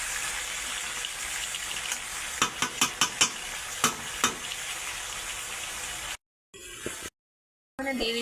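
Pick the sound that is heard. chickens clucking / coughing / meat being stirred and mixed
meat being stirred and mixed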